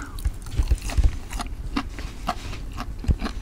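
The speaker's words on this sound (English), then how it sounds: "Listen to the crunch." Close, crunchy biting and chewing of Applebee's Cheetos boneless wings, with irregular crisp crunches and mouth sounds over a few seconds.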